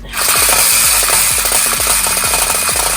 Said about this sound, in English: This one looks more like the one we would need to just break up chunks of concrete and asphalt.